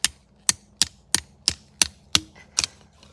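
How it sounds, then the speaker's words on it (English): A hatchet used as a hammer strikes wood outdoors while kindling is split at a camp, giving eight sharp, evenly spaced knocks about a third of a second apart, loud and close with no talk. "you can use a piece of wood or your hatchet as a hammer"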